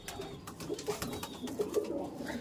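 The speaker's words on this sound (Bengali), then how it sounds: "এই একটা ফুলচেরা পায়রা আছে।" A Madras pigeon cooing softly at close range, a few low repeated coos over faint rustling background.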